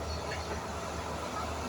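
Continuous rumbling roar of a passenger train riding on its rails, heard from inside the carriage with a steady dense rush and no clear clacks.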